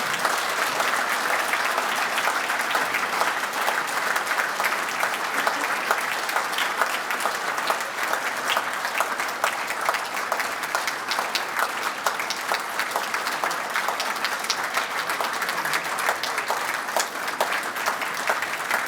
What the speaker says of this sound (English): So if I can have a really long round of applause